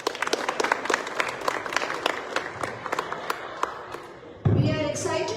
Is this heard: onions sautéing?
no